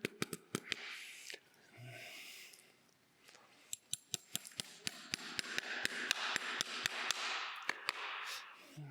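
A farrier drives nails into a horseshoe on a flat rear hoof. Sharp metallic hammer taps ring out in irregular bursts, then settle into a steady run of close, crisp strikes over faint background noise.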